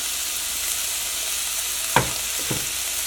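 Urad dal frying in a pan for Kerala masala vada gives a soft, steady sizzling hiss, broken by two brief utensil clinks near the end.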